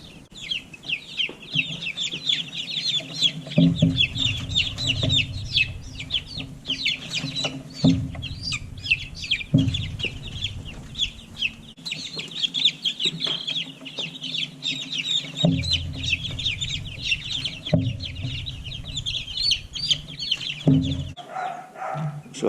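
A group of week-old baby meat chicks peep constantly in high, rapid chirps, close and fairly loud, with occasional thumps and handling noises underneath and no talking.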